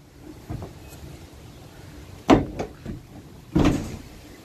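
A folding partition in a Mercedes Citan van is released by a lever, giving a sharp metallic clunk followed by a smaller knock and a second heavy bang as the panel drops into place, close and fairly loud.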